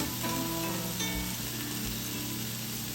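Frozen cooked shrimp sizzling with onion and tomatoes in an electric skillet set to 350°F, giving a continuous, even frying hiss at close range with no voices.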